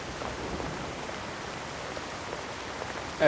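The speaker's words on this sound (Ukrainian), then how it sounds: "дощ мокрий і холодний" Steady, hissing rain falls continuously in a video game, a soft wash of even noise with no voices, ending in a brief louder bump.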